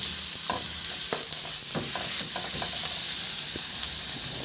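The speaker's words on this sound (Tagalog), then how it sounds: "Igisa ko na yung bawang." Garlic sizzles in a small amount of oil in a frying pan, a constant bright crackle with scattered spatula taps and stirring scrapes throughout.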